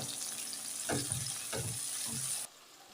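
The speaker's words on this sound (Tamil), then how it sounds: "ஒரு தக்காளி சேர்த்துக்கலாம் தக்காளி கொஞ்சம் வதங்கட்டும்" A tomato sautés in a pan for country-chicken rasam, a close, bright sizzle with a few stirring scrapes that cuts out abruptly near the end.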